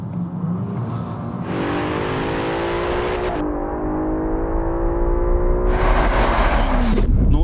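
A Bentley Continental GT engine revs up and climbs steadily as it accelerates, loud and close, the pitch rising through gear changes with no talking.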